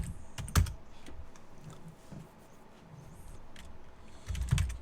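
Computer keyboard typing, a quick run of clicky keystrokes with a few louder clusters near the start and end, close and fairly quiet over low room hum, no talking.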